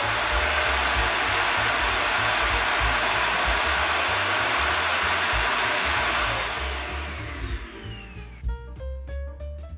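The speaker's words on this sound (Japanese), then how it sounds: "次はゴミ収集ステーションに戻ります。 そして今度は自動でゴミ収集。" A SwitchBot S10 robot vacuum's station empties dust automatically with a loud, steady roaring whoosh of suction that runs for several seconds, then winds down with a falling whine and clicking.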